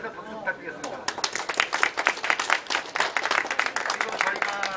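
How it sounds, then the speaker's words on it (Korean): A Korean market signboard renovation ceremony draws scattered audience applause, a modest burst of many hands clapping at moderate distance, with a speaker's voice heard over the start. "박수 부탁드리겠습니다"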